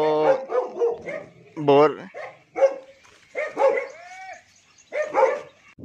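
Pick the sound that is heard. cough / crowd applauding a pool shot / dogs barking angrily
dogs barking angrily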